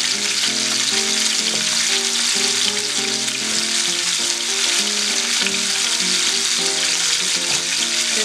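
Huitlacoche fries in a pan with a dense, steady sizzle while being stirred, close and loud throughout with no talking.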